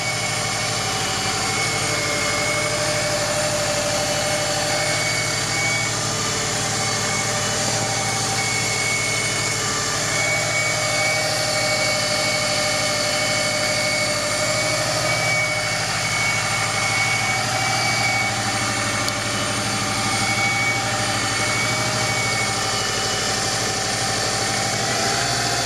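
A Subaru Impreza GT engine idles steadily and smoothly for the whole stretch, a constant mid-low hum with faint vibration and no voices over it.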